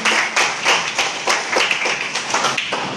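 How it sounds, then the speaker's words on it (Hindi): Close, loud clapping from an audience at a postgraduate mathematics department farewell ceremony at a college in Madhepura, a crowd of hands beating in uneven surges for about three seconds. "जोरदार तालियों के साथ स्वागत करें सरों का।"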